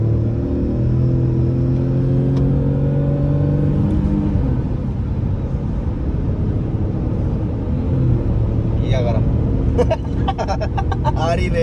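Tata Nexon and Hyundai Exter CNG cars launching in a drag race, loud cabin engine rumble with rising gear-by-gear revving, while someone talks over it.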